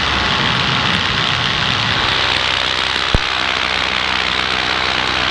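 A paramotor engine runs during flight with a loud, steady, unbroken propeller drone and one sharp click about midway.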